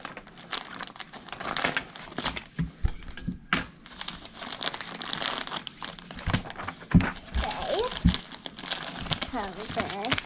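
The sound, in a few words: opening plastic packages with scissors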